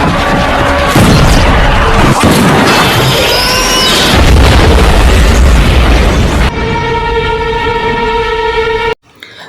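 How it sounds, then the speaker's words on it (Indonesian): A gas cylinder blows up in a zombie film: a loud, sustained roaring blast with crashing debris lasts several seconds, then gives way to a steady musical score before cutting to silence. "dengan meledakkan sebuah tabung gas."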